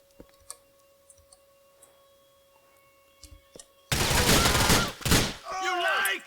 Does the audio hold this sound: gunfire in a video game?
yes